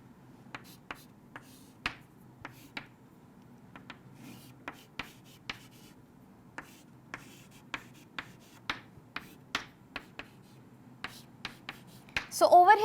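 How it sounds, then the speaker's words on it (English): Pen or marker strokes of a chemistry teacher hand-drawing a cis isomer structure, a series of short sharp taps and scratches in an irregular rhythm, close and moderately loud against a quiet background, with no talking. "Let me just draw it for you."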